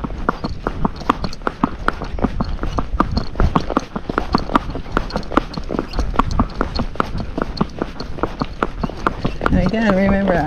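Hooves of a ridden Fox Trotter horse clip-clopping steadily in gait on a road, a quick, even rhythm of close, distinct strikes continuing throughout, with a voice briefly audible near the end.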